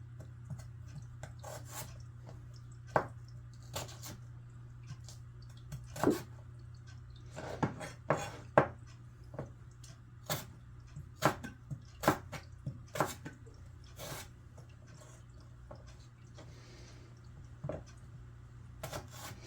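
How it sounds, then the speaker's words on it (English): A knife chops celery into small strips on a cutting board, sounding as close, moderately soft, irregular thuds that speed into a quicker run midway, over a steady low hum. "I'm taking my celery and I'm cutting it into little strips that are about 1/4 inch or a little less if you can"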